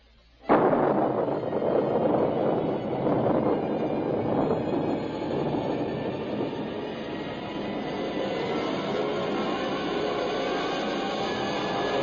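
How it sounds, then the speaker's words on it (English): A rocket blast-off from a sci-fi radio drama erupts suddenly into a loud, sustained roaring rumble that holds steady and slowly eases over about twelve seconds, with no talk over it. "countdown for blast-off"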